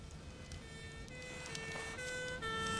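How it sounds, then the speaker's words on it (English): An ambulance siren arrives with a steady wailing tone that holds and steps in pitch. The tone grows slightly louder over a few seconds, heard from a moderate distance with no talk over it. "Well, the ambulance is here."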